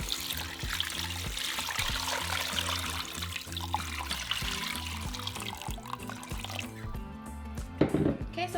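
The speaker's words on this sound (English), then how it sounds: "And then we're going to cover it with water." Water is poured steadily into a pot over beef seasoned with cloves, bay leaves and salt, a continuous splashing fill that runs for several seconds against faint kitchen background noise.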